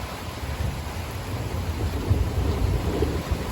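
Deep, continuous low rumbling of thunder after a large lightning strike, rolling through steady supercell storm rain, with a few heavier swells midway and no voices.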